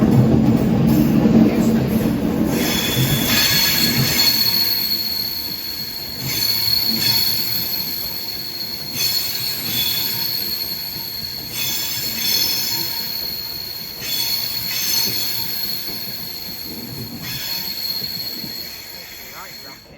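A Class 390 Pendolino, unit 390016, bound for Glasgow Central at Carlisle, gives a sustained high-pitched wheel squeal over a loud rumbling rail roar, pulsing in waves as the carriages pass close by.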